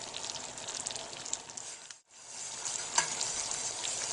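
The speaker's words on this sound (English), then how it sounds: "This whole pan is boiling really hard" Sugar syrup boils hard in a hot pan while being made into homemade marshmallows, giving a steady, close, crackling sizzle. A brief hush falls midway, then the bubbling returns with a sharp pop.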